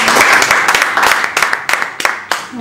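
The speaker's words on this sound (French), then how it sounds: "sous vos acclamations, s'il vous plaît" A press-conference audience in Paris claps to welcome a speaker introducing a Congolese singer, a close burst of hand claps that thins into scattered individual claps as it fades.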